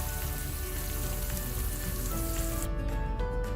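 Trout coconut tamarind curry bubbles and sizzles in a pan, a dense, continuous close frying hiss with crackling spatters throughout, easing slightly near the end.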